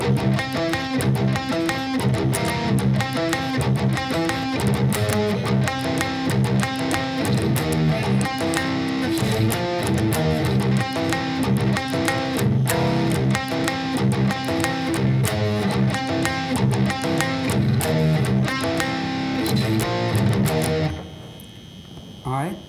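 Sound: guitar playing song intro

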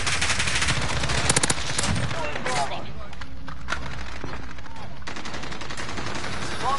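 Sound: AK rifle gunfire in Call of Duty video game

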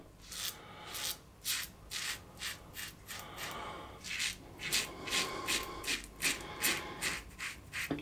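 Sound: shaving against the grain with Rockwell 6S razor on plate two

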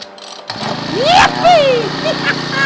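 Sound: Makita four-stroke brush cutter engine starting

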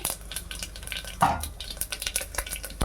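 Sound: mustard, cumin and fenugreek seeds frying in hot oil

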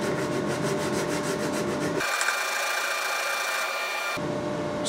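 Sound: sanding guitar neck wedge with sandpaper

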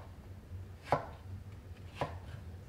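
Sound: knife cutting a potato into strips

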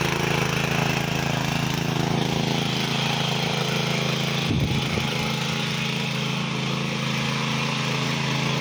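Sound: 7 horsepower mini power tiller engine weeding in garden

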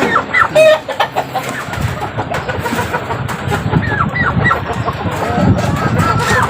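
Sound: young rooster (stag) clucking

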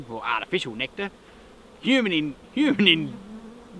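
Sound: honey bees buzzing at a sugar water feeder in hive

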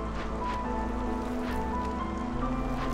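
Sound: rain during drizzle season in video game Against the Storm

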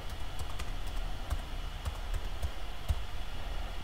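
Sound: typing a Wi-Fi password on a computer keyboard

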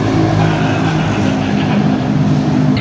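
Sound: Toyota hypercar driving past on race track

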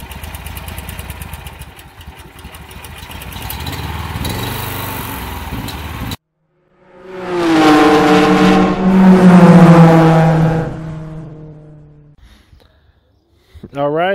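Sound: GX340 go kart engine running

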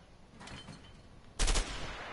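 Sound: gunfire from the video game A Way Out

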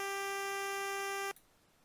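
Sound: looped chip samples with phaser effect

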